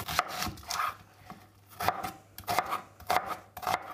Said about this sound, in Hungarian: Ezt meg olyan nagyobb darabokra vágom, ezt a hagymát.